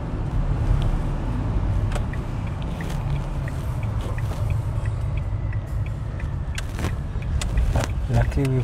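A small car is driven in search of a shady parking spot, with a steady low engine and road rumble running throughout, occasional clicks and rattles inside the cabin, and people talking over it.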